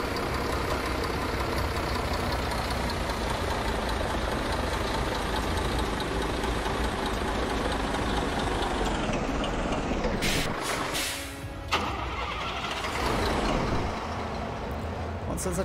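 A Scania K124 Busscar bus engine in Euro Truck Simulator 2 rumbles at a steady idle with a knocking diesel texture, loud and continuous, briefly dipping near the end amid a few clicks and shifts.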